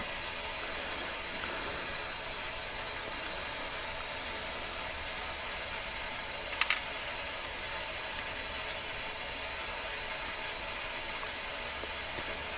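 A small water fountain pump makes a steady, hissing mechanical hum throughout, broadband and unchanging, with a couple of brief faint clicks partway through.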